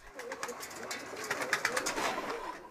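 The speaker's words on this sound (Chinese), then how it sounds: "哦，是鸽子，" A large flock of pigeons, kept by pigeon fanciers in Turkey, coos and flutters in a continuous, soft, overlapping murmur with no voices.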